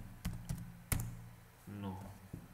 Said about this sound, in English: So this, again, I am typing here Python.